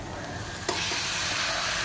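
Chickpeas tipped into a hot pan of sizzling tempering with coconut: a steady, close frying hiss with a brief soft clatter as they land, no talk.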